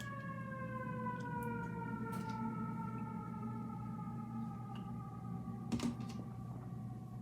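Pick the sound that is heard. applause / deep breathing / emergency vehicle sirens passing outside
emergency vehicle sirens passing outside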